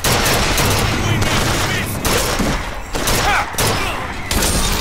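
Dense gunfire in the video game BioShock Infinite: loud bursts of rapid shots and volleys that fill nearly the whole stretch, with brief gaps between the rounds of fire.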